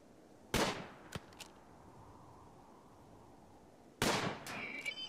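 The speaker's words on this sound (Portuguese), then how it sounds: "Vou dar mais um tiro, eu acho." Two sharp gunshot bursts from the video game RimWorld, each a loud broadband crack with a short decaying tail, separated by about three and a half seconds of quiet background, with a faint extra snap after the first.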